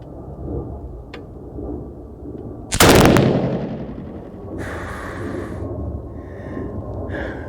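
A single loud, sharp 6.5 PRC rifle shot firing 156 gr Berger bullets loaded with Retumbo powder cracks out midway, followed by a long booming, reverberating decay, with quiet outdoor background before and faint rustling after.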